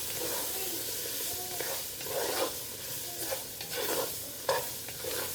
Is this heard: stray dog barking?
no